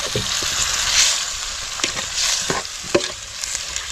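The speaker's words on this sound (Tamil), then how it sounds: "இப்போ அப்படியே நல்லா கிண்டி விட்டுக்கிடுவோம்." A spoon scrapes and stirs through thick, sizzling chicken gravy in a pot outdoors, with a few clinks against the metal over a steady bubbling fizz.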